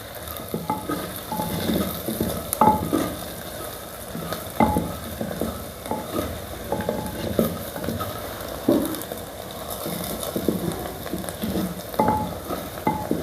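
Chicken with coriander frying in a clay pot, a steady sizzle broken by repeated scraping and stirring knocks of a spoon against the pot, close and fairly loud, with no voices.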